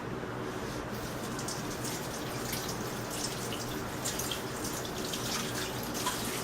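Water runs steadily from a kitchen tap while garlic cloves are washed for a linguine sauce, a constant soft hissing splash with faint drips, fairly quiet and without any talk.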